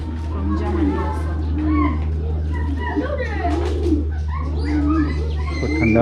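Pomeranian pouter pigeons, an ornamental German breed, coo repeatedly in low rolling phrases alongside other bird calls, with a steady low hum and people talking throughout.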